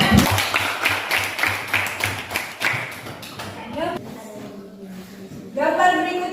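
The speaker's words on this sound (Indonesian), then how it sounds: "Tepuk tangan buat Elin." A classroom of students gives a short burst of clapping for a classmate, quick and fairly close, fading into quieter tapping before the teacher's voice resumes.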